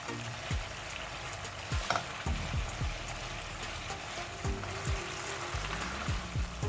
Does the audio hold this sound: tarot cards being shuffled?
no